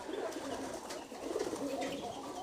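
Pigeons coo softly and continuously at a village house as the flock comes down to feed, low burbling calls overlapping with faint bird movement throughout.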